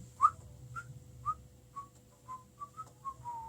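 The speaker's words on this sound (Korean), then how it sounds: "저 휘파람 잘 불어요" A person whistles a run of about eight short, clear notes, each slightly lower or held a little longer than the last, spaced evenly over a low steady background hum.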